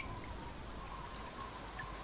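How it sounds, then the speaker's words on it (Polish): Steady rain falls in the opening of the Blade & Soul video game, a dense, even hiss of drops that continues throughout at a soft level. "O, deszcz. Krople wody na ekranie."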